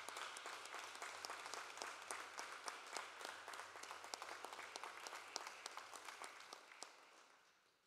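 A room applauds at a Shawinigan city council meeting, steady clapping with distinct individual claps that fades out toward the end, no talking over it.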